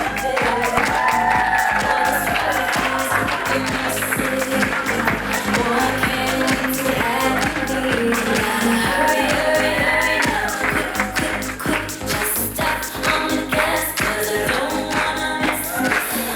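A wedding crowd claps and cheers for the page boy, dense applause mixed with whoops and shouts, loud and sustained throughout with no clear speech over it.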